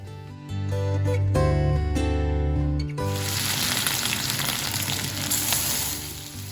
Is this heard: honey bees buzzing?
no